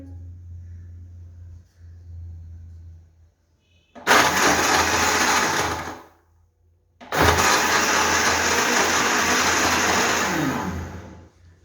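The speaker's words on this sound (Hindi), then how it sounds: "अब इन सारी चीज़ों को ब्लेंड करेंगे।" Countertop blender whirring through dates, almonds, sugar, milk and water in two loud bursts, a roughly two-second pulse followed by a longer steady run, after a low hum and a pause.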